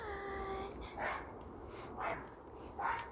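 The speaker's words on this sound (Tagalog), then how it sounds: "May aso kasi doon sa kabila." A dog barks three times at a moderate distance, evenly spaced about a second apart, over faint background noise.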